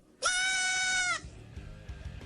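Baby goats in harnesses, carried in a car trunk, give one loud, sustained, wavering bleat close by, followed by quieter rustling and handling noises.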